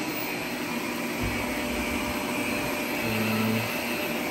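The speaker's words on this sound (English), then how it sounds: "I'm gonna give this carpet a good thorough vacuum." A Shark vacuum cleaner runs steadily over carpet during a janitorial job, giving a loud, constant motor whine and airflow roar with brief low thumps as the head moves, close and uninterrupted.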